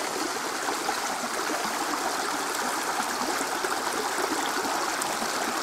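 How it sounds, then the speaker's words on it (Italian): Small waterfall feeding a stream, steady rushing and splashing water heard up close with no talk, constant and even throughout. "Là c'è la cascatella."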